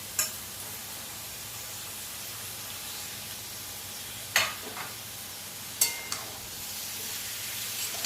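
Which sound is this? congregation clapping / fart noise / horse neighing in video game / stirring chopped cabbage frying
stirring chopped cabbage frying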